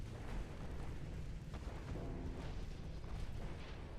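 Warships firing HE shells in the naval video game Ultimate Admiral Dreadnoughts, heard as a low, rumbling wash of distant booming salvos with a few sharper reports, continuous and fairly quiet, without voices.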